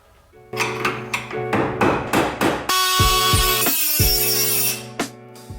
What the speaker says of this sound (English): the best way to do it is just to hit it with a hammer